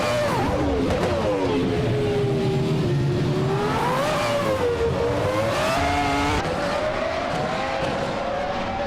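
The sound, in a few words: Formula 1 race cars racing in a video game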